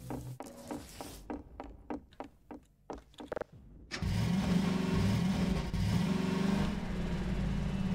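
A few sharp clicks and knocks give way to a car engine starting and then revving steadily in a loud, continuous hum, in the video game Half-Life 2.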